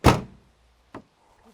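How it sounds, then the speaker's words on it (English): A truck door thumps loudly shut, followed by a second, sharper latch clunk about a second later, close by with no talk. "This door is working."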